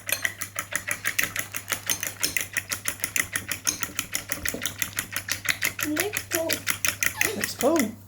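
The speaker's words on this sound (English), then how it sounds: "So we've whisked our egg up." An egg is beaten for cake mixture with a steady, fast rhythmic clatter of a whisk against a bowl, close and quiet, while voices talk over it near the end.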